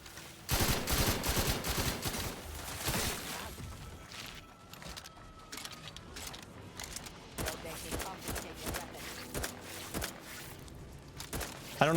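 In the video game The Outer Worlds 2, a weapon fires rapid bursts of shots. The sharp reports come in fairly quiet, uneven clusters over low background game ambience.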